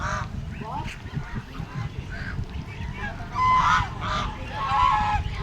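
Several geese honk repeatedly in loud, nasal calls over a steady outdoor murmur, with a few scattered honks growing more insistent toward the end.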